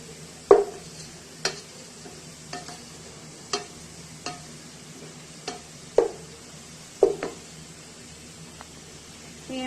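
Chicken goes into a pan of frying pink onion and garlic, a soft steady sizzle broken by sharp clacks and scrapes of a stirring spoon every second or so, close and fairly quiet.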